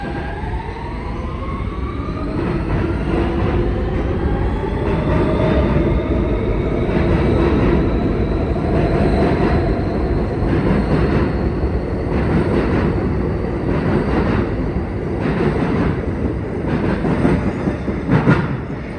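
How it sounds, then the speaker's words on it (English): A New York subway E train between Jamaica–Van Wyck and Penn Station, its traction motors whining in rising musical tones over steady rumble and clickety-clack of wheels on rail, loud and continuous throughout. "These cars have a musical traction motor sound like Long Island Railroad and Metro North M7s."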